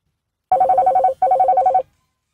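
An incoming call sets a mobile phone ringing: a loud, close, rapidly pulsing electronic trill in two bursts with a short gap between them, then silence.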